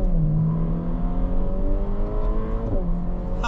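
Ferrari Portofino accelerating hard, its engine note climbing steadily in pitch then dropping briefly at a gear change before rising again, loud and close with no talk.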